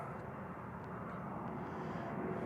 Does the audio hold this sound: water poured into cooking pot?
no